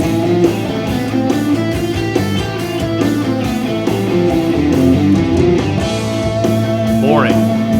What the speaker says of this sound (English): they're simply playing up and down scale patterns that they've memorized.